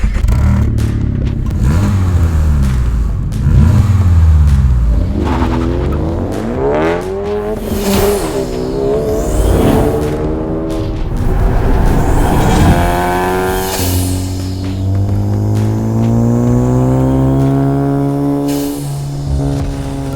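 A Honda Civic Type R FL5 from 2023 onward with a valved performance exhaust revs loud and close, climbing and falling through several pulls and then holding high, with no talking.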